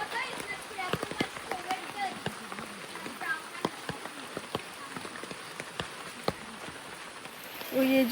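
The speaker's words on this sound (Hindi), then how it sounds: "बारिश हो रही है थोड़ी थोड़ी," Light rain falls on a jungle path near the Crystal Pool and Emerald Pool in Krabi, Thailand, likely pattering on an umbrella: a steady wash of hiss with frequent sharp nearby drips, and a brief voice near the end.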